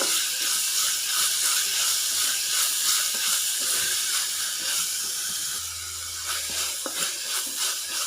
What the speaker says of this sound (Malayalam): വാട്ടിക്കൊടുക്കാം നല്ല ഒരു ബ്രൗൺ കളറൊന്നും ആവണ്ട ചെറുതായിട്ടൊന്ന് വാടി കിട്ടിയാൽ മതിയത്